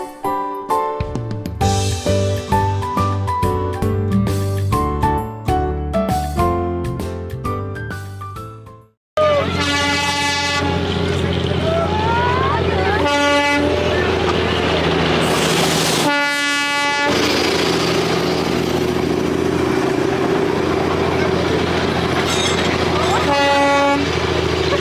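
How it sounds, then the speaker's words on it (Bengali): Darjeeling toy trains, diesel and steam engines, passing close with loud sustained horn blasts, rumbling wheels and rhythmic clickety-clack, first under music and then alone with repeated toots. "এখানে আমাদের ডিজেল ইঞ্জিন, স্টিম ইঞ্জিন, আরও একটি ডিজেল ইঞ্জিন, 3টে টয় ট্রেনের সঙ্গেই দেখা মিলেছিল 10 মিনিটের মধ্যে"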